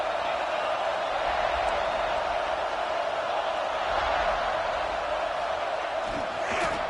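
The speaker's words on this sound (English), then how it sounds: "This crowd bringing the energy and noise early." Stadium crowd noise from the College Football 26 video game forms a steady, dense roar throughout, loud and unbroken, with no distinct cheers standing out.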